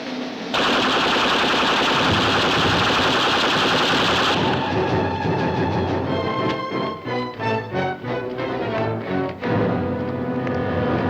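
Firing squad gunfire in a scene from the TV series Voyage to the Bottom of the Sea, a loud sustained volley of rapid shots that breaks into a ragged fusillade of separate cracks.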